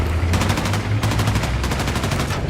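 Battlefield 6 multiplayer gunfire: bursts of rapid automatic shots in three quick volleys, loud and close, with a low rumbling background.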